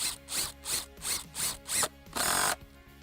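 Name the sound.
impact driver driving SPAX PowerLag screw into wood beam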